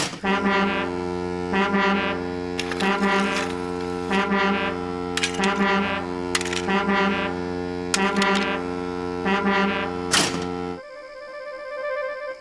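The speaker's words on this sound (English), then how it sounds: "It's a new invention, a railway foghorn, said the Fat Controller." A loud, deep railway foghorn blares in long sustained blasts with a steady droning tone, pulsing several times before cutting off abruptly near the end.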